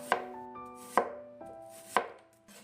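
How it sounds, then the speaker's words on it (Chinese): A knife slices peeled Chinese yam into thin slices on a board, giving three crisp, evenly spaced chops close up, each with a short woody knock. "去皮之后，再给它切成薄片。"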